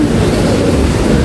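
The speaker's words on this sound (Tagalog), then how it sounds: "Parang may bagyo. Grabe yung hangin." Strong wind gusts during rainy, stormy summer weather at an outdoor seating area roar loudly and continuously against the microphone. The wind covers the whole short stretch.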